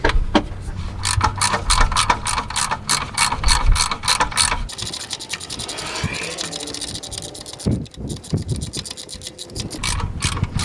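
Ratchet wrench tightening a loose bolt on a 1978 Ford Ranger: rapid, loud metallic clicking in steady bursts close by, then rougher scraping and clicks with a brief pause near the end.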